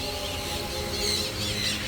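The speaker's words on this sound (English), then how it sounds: "let me show you this perfect clip of these parrots" A flock of parrots at a bird park squawks and chatters continuously, a busy wash of harsh calls and chirps at moderate distance.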